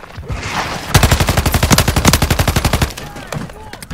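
Rapid automatic gunfire from a first-person shooter match in Call of Duty Modern Warfare 2 on the Rust map, a loud sustained burst of evenly spaced shots lasting about two seconds, framed by game ambience before and after.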